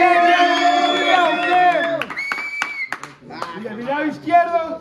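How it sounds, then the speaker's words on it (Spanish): Crowd at a rap battle event whoops and cheers with scattered clapping, loud and close, while a host shouts over the noise throughout. "¡Un ruido para ese señor! ¡Un aplauso! ¡Un ruido!"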